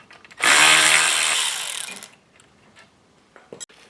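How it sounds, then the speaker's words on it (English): A power tool whirs loudly for about a second and a half while an 8mm bolt is taken out of a vehicle's wheel well, then it winds down into a few faint clicks and taps. "I'm going to take this 8mm bolt out so I could fit the fuel line through here."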